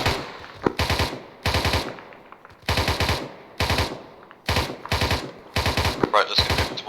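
Gunfire in a military simulation field exercise outdoors: repeated rapid automatic bursts, each lasting a fraction of a second with short gaps, loud and close, a steady stuttering rhythm throughout.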